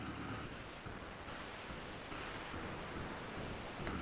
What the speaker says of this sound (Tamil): இப்போ தண்ணி நல்லா கொதித்து வருதுங்க.